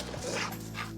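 A shelter dog reacts as another dog is walked past its kennel, giving a short run of close, sharp yips and whimpering barks over about a second.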